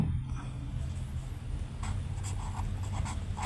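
Pen scratching on paper while a third-grade math problem is written out by hand, with a few soft strokes sitting low under a constant background hum, no one speaking.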